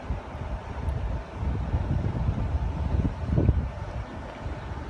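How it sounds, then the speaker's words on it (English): Gusty wind buffets the microphone outdoors on a blustery day during the Phoenix, Arizona monsoon season, a steady low rumble with loudness swelling and easing throughout and no voices. "it's pretty windy out here today"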